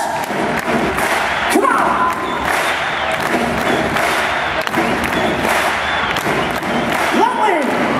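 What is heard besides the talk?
arena crowd clapping hands to the beat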